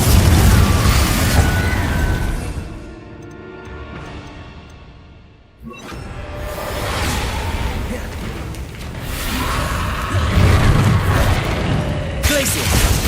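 Confringo explosive spell blasts in Hogwarts Legacy combat, bursting and popping loudly amid whooshes, with a brief lull in the middle before the fight noise surges back; voices are present.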